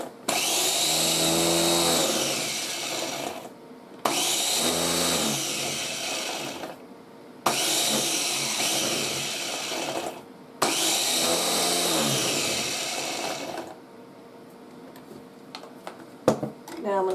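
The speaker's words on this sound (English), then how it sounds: "we're just going to use our little Ninja chopper" A small Ninja chopper whirs in four long bursts, grinding dried vegetables down to powder, each run loud and steady before a short pause and a final clatter.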